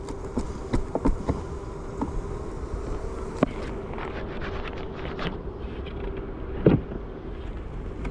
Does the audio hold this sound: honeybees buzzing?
yes